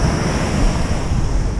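Ocean waves at the Pico Netuno surf spot roar as a loud, continuous wash of surf, with steady wind noise buffeting the microphone and no voices.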